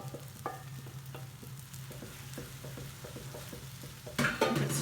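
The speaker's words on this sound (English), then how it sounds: "Keep it stirring." Vegetables and egg noodles are stirred in a frying pan over a low sizzle, with regular light scrapes and taps of a utensil against the pan and a louder clatter near the end.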